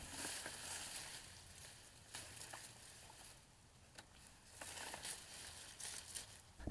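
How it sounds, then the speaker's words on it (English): Sweet potato vines being cut back and pulled from a container planting, giving close, steady rustling and crinkling of leaves with a handful of sharp snips or snaps at irregular intervals, with no voices. "The first thing I'll do is cut off the vines and get them out of my way"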